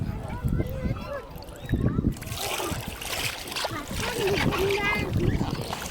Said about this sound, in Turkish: denizin içine gir ve ayaklarını çırp oğlum